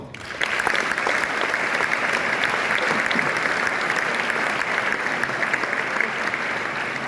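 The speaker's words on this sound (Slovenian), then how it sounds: "En aplavz za to." Audience at a Slovenian sports awards gala applauds a mixed ski jumping team, a bright even burst of clapping that starts abruptly and carries on steadily at full strength to the end.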